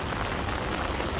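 Heavy rain hisses steadily over a New York City street, a dense wash of falling drops that stays constant and fairly loud with no talking.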